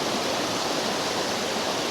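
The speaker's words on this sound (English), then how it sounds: "same waterfall trickling down" Waterfall near Lake Gosau in the Austrian Alps, a steady broadband rush of falling water heard close and continuous, with no voices.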